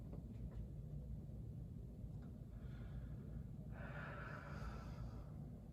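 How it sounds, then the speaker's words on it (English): Slow, deep breath let out during a relaxation breathing exercise, a soft airy exhale rising partway through, faint and close over a steady low background rumble. "release the breath slowly and let the tension leave your body as you breathe in"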